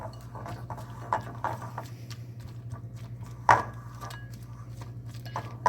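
Roasted pumpkin seeds are mixed about with a spatula, giving a series of close, irregular clacks and scrapes against the tray, one louder knock near the middle, with quiet gaps between.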